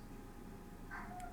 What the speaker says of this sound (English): He has the most pitiful little whimper of a meow.